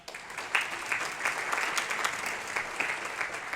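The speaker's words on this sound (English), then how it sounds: "Give a round of applause." A live audience bursts into a steady round of applause at a church advent mission night, dense clapping sustained throughout with no talk over it.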